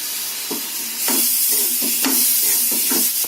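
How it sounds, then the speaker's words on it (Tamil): Chopped tomatoes sizzle in a hot frying pan for a spicy potato kara curry, with a steady hiss broken by several rhythmic scraping stir strokes, close and alone. "இப்போ நம்ம நறுக்கி வச்ச தக்காளி பழத்தையும் போட்டுக்கிறோம்."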